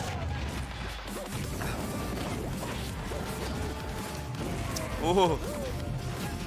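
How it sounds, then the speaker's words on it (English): Super Smash Bros forward smash attacks land during a doubles tournament semifinal, a sharp crunchy impact bursting out amid busy game noise and effects, with a commentator's brief exclamation over the action. "Always carry that forward smash. That sound."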